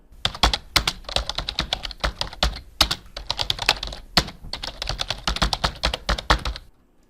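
Fingers type quickly on a computer keyboard while entering data in Excel, producing close, crisp clattering keystrokes in bursts with brief pauses between them.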